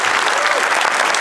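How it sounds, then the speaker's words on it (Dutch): Thunderous applause from a crowd at a 75th-anniversary celebration of a holiday park, dense steady clapping filling the whole moment at full volume. "En wat mij betreft dienen deze mensen een daverend applaus."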